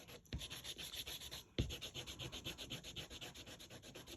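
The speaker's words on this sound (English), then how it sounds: "a sand eraser for ink" Sand eraser rubbed briskly back and forth over card to lift ink, a quiet, close, rhythmic scrubbing with fast regular strokes and one short pause.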